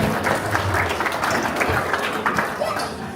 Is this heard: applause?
yes